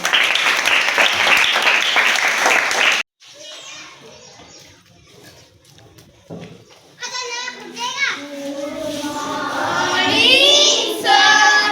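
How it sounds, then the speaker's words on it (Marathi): A group of students claps loudly and raggedly for about three seconds, then stops abruptly, and children's voices and chatter fill the rest of the clip. "टाळ्या वाजवा सर्वजण"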